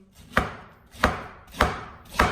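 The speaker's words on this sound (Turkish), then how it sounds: "Ananası dilim dilim doğruyorum." A knife chops through a firm pineapple on a cutting board, four crisp evenly spaced slicing strokes with brief pauses between.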